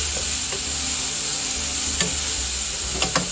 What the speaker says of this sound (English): Just going to saute those till they're clarified